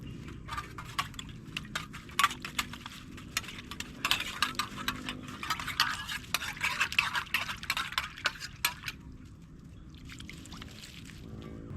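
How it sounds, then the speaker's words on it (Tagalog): Steady scraping and clinking of a utensil stirring food inside a container at a forest campsite, repeated quick strokes, close by. "papaghaluin na lang natin to dahil di ko nadala yung kaldero natin"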